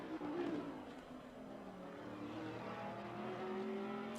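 Porsche race car engine in a racing video game, a steady droning engine note with shifting pitch, held loud and continuous throughout.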